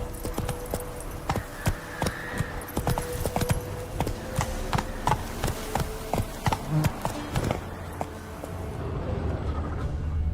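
A horse gallops in The Witcher 3: Wild Hunt, with quick, steady hoofbeats close by that carry on for the whole stretch under a faint jingle of tack and a low background wash.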